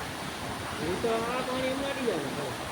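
Water gushes from a borewell motor into a well, a steady broad rushing roar, with a person talking over it partway through.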